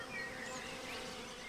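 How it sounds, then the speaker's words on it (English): Honeybees buzz steadily around spring blossoms in the Jura Mountains of Switzerland, a continuous close drone with no pauses. "Bees need huge quantities of nectar and pollen to feed the brood in their hives."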